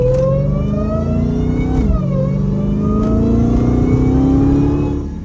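Hellcat 300 car engine accelerating through the city at night, a loud, close, steady rising engine note with a brief dip near the middle as it shifts, then climbing again before easing off at the end.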